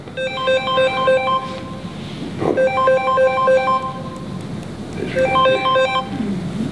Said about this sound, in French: je n'ai pas coupé mon téléphone